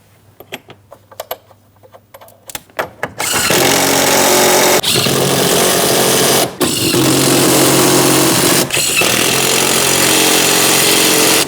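Power tool tightening 15mm mounting nuts on a rear shock absorber assembly of a 2003-2007 Cadillac CTS, starting after a few light clicks and taps with a loud, continuous whirring run that dips briefly twice.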